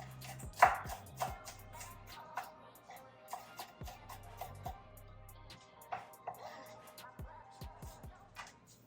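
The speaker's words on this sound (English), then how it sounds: "Chop about half a handful of onions" Knife chopping onions on a cutting board in a home kitchen, a run of sharp, irregular taps and thuds close by, with faint kitchen clatter and no talking.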